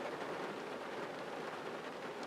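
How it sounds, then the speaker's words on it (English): Rain falling outdoors in the desert, a steady soft hiss of drops that stays even and fairly faint throughout, with no voices. "Maybe it'll quit raining later"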